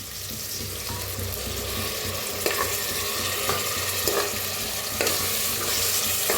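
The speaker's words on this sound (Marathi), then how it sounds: "दह्याला बी मस्त असं शिजायला लागलेलं आहे।" Curd cooking in a pan with tomato for masale bhat, a dense continuous sizzle and bubbling with a few sharper clinks of a spoon, close and fairly loud with no speech.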